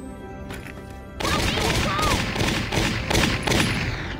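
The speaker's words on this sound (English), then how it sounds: "Prepare to fire mortars." Mortars fire in Valkyria Chronicles Remastered, a sudden onset of heavy rumbling blasts and crackling impacts after a quieter second, several bursts following in quick succession.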